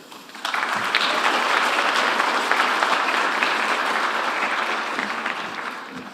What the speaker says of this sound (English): let's give a warm round of applause and welcome your MC for tonight, Solsville.